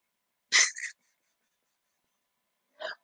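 An enemy burps in a video game: one loud, throaty two-part burp, then a shorter, quieter one after a silent gap, with no talk.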